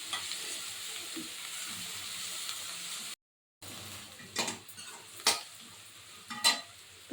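Onions sautéing in a pan for prawn gravy, a soft steady sizzle broken by a brief silent gap, then several sharper spoon scrapes and knocks against the pan.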